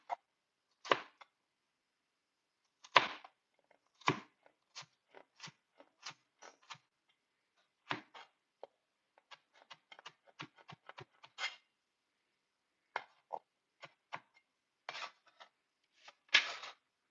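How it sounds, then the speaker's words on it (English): A knife chops carrots into cubes on a cutting board for a turkey stew lunch, sounding as irregular crisp taps and short scraping strokes with quiet pauses between bursts, close and fairly soft, with no talking. "Can you see how I cut my carrots in cubes?"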